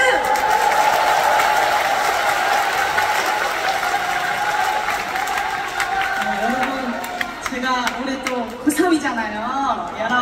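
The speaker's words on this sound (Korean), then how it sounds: "박수!" Concert audience in Anyang claps and cheers steadily in a dense, continuous wash of applause, with a voice talking over the crowd during the last few seconds.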